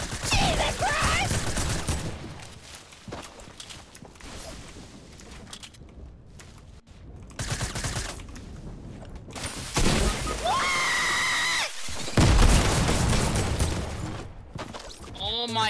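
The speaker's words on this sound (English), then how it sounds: "someone threw a nade at us and it killed me" Shooter video game combat: repeated bursts of gunfire and sharp impacts with a heavy explosion-like blast near the end, loud and chaotic, with excited players shouting over parts of it.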